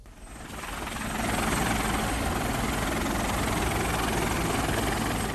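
A helicopter during a morning evacuation flight in Paro district, Duga regency, Papua. Its rotor and engine drone swells up within the first second, then holds as a loud, steady, close roar throughout.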